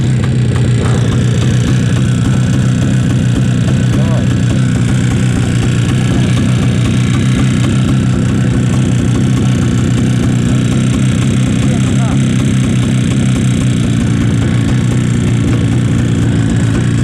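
An IZh Jupiter 4 motorcycle engine runs in winter cold, a loud, close, continuous throbbing idle that holds steady throughout with little clear rise in revs.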